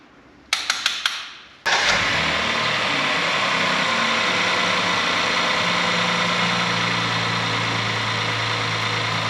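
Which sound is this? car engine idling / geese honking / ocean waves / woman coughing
car engine idling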